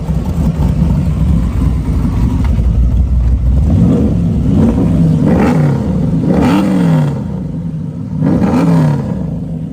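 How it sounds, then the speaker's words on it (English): Custom muscle car with a suede and leather interior, its exhaust revving in repeated rising-and-falling blips over a steady loud idle rumble, close up, with no talking. "Listen to that exhaust note, it sounds awesome."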